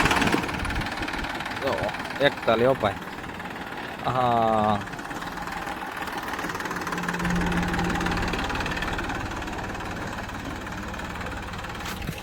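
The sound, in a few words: tractor engine idling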